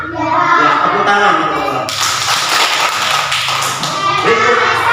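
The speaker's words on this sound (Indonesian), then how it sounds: "Ya, tepuk tangan." A class of children claps hands together, a dense continuous burst of clapping that swells midway and stays loud throughout, with faint children's voices underneath.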